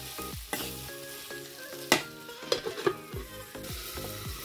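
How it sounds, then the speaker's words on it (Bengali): Taro stolons (kochur loti) with broiler chicken skin being stir-fried in a pan: a steady soft sizzle under repeated scraping strokes of a spoon against the metal, with a few sharper clinks, and no voices. "নতিটা দিয়ে এখন আমি এটা দিয়ে কষিয়ে নিব।"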